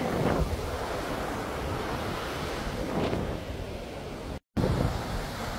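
Sea waves wash in and break in slow surges where a river flows into the sea, with steady wind buffeting the microphone and a brief dropout near the end.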